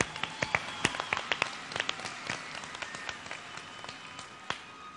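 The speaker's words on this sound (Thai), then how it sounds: "ก่อนอื่นขอเสียงปรบมือให้กับนักแสดงทุกๆคนอีกครั้งหนึ่งนะครับ" Sparse, faint clapping from a small audience applauding performers, scattered individual claps popping out unevenly over a quiet background.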